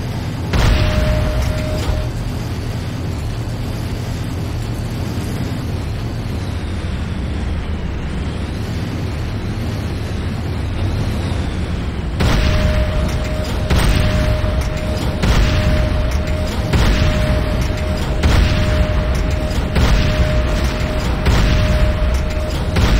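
Heavy rumbling explosions in the game C&C Renegade as Nod structures are destroyed, a loud continuous roar with booming bursts and mechanical clatter, intensifying partway through.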